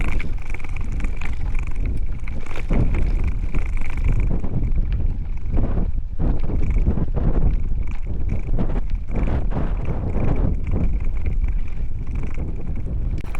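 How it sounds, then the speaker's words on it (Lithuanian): Steady, loud wind gusts by the sea on the Bulgarian coast, buffeting the microphone with continuous roaring noise that swells and dips throughout. "Vėjukas pučia, gali pripūsti debesėlio."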